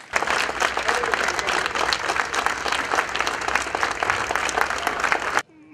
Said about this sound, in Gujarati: વિનોદ ભટ્ટ તાળીઓથી વધાવી લઈએ